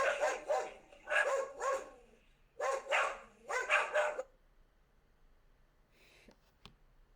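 A pet dog barks at a passing garbage collector indoors, several loud rapid barks in clusters, then quiet with a couple of faint clicks after.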